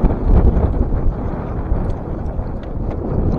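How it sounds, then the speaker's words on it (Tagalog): Strong gusty wind blows over open water while fishing from a paddled boat near Naic, Cavite, a loud rumbling buffeting against the microphone that surges and eases throughout with no voices. "Lakas ang hangin, grabing hangin oh, lakas."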